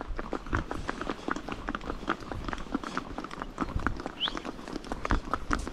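Horse hooves clip-clop along a mountain trail near Pahalgam in Kashmir, a steady, fairly close rhythm of repeated hoof strikes, with faint background chatter.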